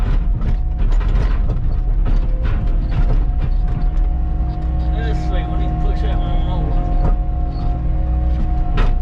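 A skid steer loading logs onto a truck, with steady loud engine drone and repeated metallic clanks, creaks and ratcheting as the logs are handled, close and continuous.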